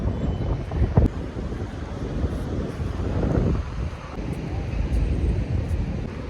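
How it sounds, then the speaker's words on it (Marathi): Cold wind gusts across the microphone at a beach in a steady, low roar that rises and falls for several seconds, with nothing else standing out. "एकदम गार वारा चालू आहे"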